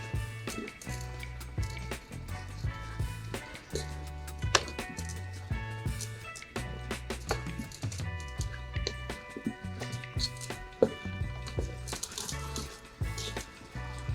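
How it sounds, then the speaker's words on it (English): Vegetables for soup being tossed and mixed with seasonings in a bowl, giving steady soft squishing and rustling with light clinks, close and continuous with no talking. "So next we mix everything together."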